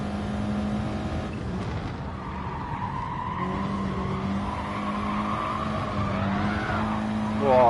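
A Gr4 race car in Gran Turismo at Spa drones with a steady engine note, and tires squeal and skid as the car slides in lift-off oversteer over the kerbs, the revs rising toward the end.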